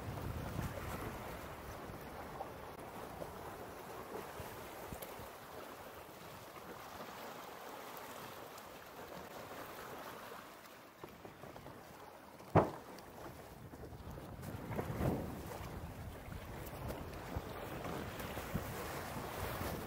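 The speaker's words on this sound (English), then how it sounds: "I can see a bigger gust coming through" Strong gust of wind buffeting a microphone while sailing, a steady rushing roar of wind and water with a sharp knock partway through and a brief swell soon after.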